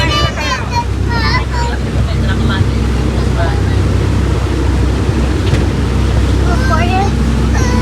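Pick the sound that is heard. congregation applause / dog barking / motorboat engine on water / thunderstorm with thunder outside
motorboat engine on water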